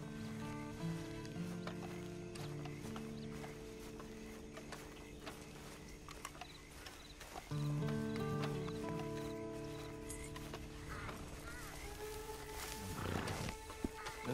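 A horse in the video game Red Dead Redemption 2, with snorts and scattered hoof clops mixed into sustained game music and ambience, and a louder burst near the end.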